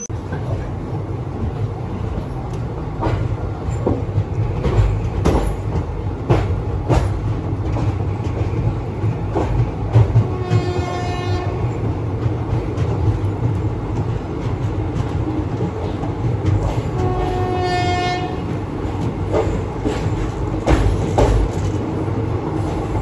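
The Aurangabad Guntur Express runs near Mahabubnagar with a loud, continuous rolling rumble, and two sustained horn blasts ring out partway through.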